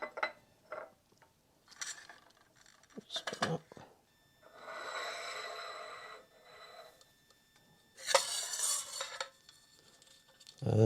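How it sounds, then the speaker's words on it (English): Metal utensils clink and scrape against a plate while dark chocolate shavings are gathered up for a cappuccino topping, in scattered close taps and a few longer rasping scrapes. "what I'm going to do now is gather these shavings"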